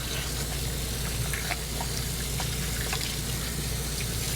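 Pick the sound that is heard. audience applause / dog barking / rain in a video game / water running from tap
water running from tap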